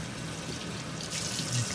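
Water from a kitchen sink faucet runs in a steady, even rush, warming up after a cast iron skillet is carried inside for cleaning, with a slight swell near the end and no talk.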